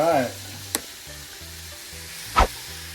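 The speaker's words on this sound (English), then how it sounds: "Now what we're trying to do is just get a sear on them to lock in all the juices." Chicken searing in a hot pan for birria, a soft steady sizzle with a couple of sharp brief clinks or pops, fairly quiet and close.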